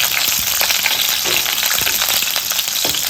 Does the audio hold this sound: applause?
no